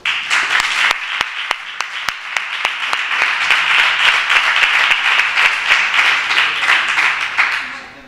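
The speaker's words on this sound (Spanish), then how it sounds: "Un aplauso, por favor." An audience at a fair's opening proclamation applauds a youth prize winner, a dense burst of many hands clapping that starts with a few sharp individual claps, holds loud and steady for several seconds, then thins toward the end.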